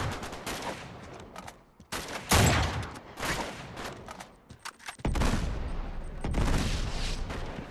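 Dense in-game gunfire from the video game Uncharted 3, a continuous fusillade of overlapping shots and bursts with loud surges, filling the whole stretch without talk.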